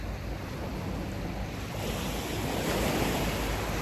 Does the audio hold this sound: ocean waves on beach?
yes